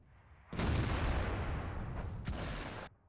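An artillery shell fires in World of Tanks as a single heavy, close boom that blooms into a rumbling blast lasting a couple of seconds, with a brief second crack near the end before it dies away.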